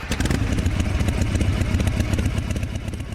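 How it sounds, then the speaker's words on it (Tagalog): A motorcycle engine runs right after starting, a loud, close, rapid chugging with clattery pulses that stays steady for a few seconds. "Natatawa pa rin ako nang muli kong pandarin ang motor."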